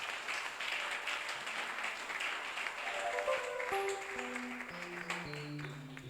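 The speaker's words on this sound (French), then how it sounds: "On acclame le Seigneur" A church congregation applauding and cheering to acclaim the Lord, a steady wash of clapping throughout, with sustained organ or keyboard tones rising underneath in the second half.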